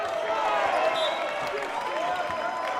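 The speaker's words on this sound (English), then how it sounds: "I'm not too sure whether the clapping is to put them in time or off time of the hit." Spectators at a New Zealand secondary schools volleyball final clap together in a steady rhythm, a dense crowd noise filling the hall with faint voices mixed in.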